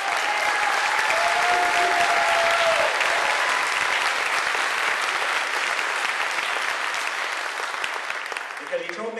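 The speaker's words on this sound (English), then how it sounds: "go ahead and applaud" Sustained applause from a large keynote audience at a summit for a fair economy, steady and loud throughout, thinning slightly toward the end.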